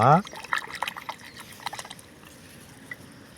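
Freshly dug village tubers rinsed by hand in water, giving soft splashes, trickles and drips that fade over a few seconds after a brief louder start.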